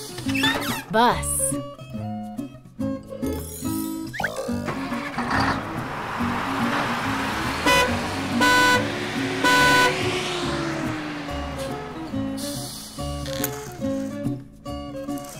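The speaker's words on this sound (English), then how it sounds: "Bus." A bus engine rumbles with several short horn toots, mixed into upbeat children's song music with singing voices over it.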